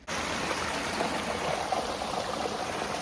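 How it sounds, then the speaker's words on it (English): A creek swollen after a big storm rushes steadily nearby, a constant broadband wash of flowing water with no voices. "so now the creek is flowing."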